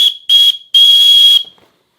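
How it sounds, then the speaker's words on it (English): A small whistle built into a backpack's sternum strap is blown in two shrill, piercing blasts, a short one followed by a longer one, loud and close with nothing else behind them. "we've got a sternum strap with a little whistle"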